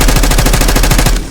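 Rapid automatic gunfire rattles without a break in a video game, loud and close, with no voices over it.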